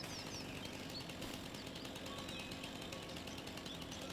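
In Farming Simulator 25, a chainsaw cuts through overgrown weeds and bushes with a steady, rattling buzz that runs unbroken throughout, while faint bird chirps sit in the background.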